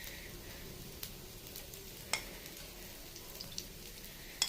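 Aloo cutlets frying in oil in a pan give a quiet, steady sizzle with a few faint clicks, close but soft, with no voices.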